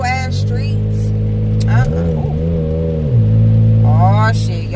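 A car driving on narrow streets with the engine droning loudly inside the cabin, rising in pitch as it accelerates, with a person talking over it.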